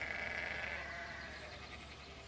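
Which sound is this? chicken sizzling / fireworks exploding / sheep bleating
sheep bleating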